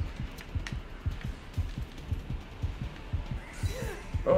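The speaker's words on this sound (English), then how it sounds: "Alright, you hear the heartbeat." Steady heartbeat warning from the video game Dragon Ball The Breakers, signalling an enemy close by: regular low double thumps pulse throughout at moderate volume, with a brief higher in-game effect near the end.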